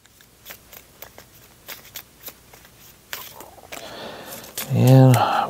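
A deck of cards for the Legendary Encounters: Alien board game is shuffled in a run of soft, close riffling clicks and snaps, and a voice speaks briefly at the end.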